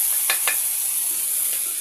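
Green leafy vegetables are tossed into a hot frying pan of browned ingredients for a farm-fresh egg dish, giving a steady close sizzle with two quick soft rustling drops near the start.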